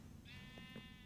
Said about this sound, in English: There is Mr. Freedom, the free sheep.